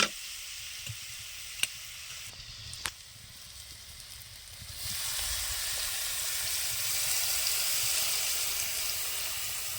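A curry of young amra (hog plum) cooks quietly with a few clicks, then a small amount of water goes in and a broad, steady sizzle swells up and holds.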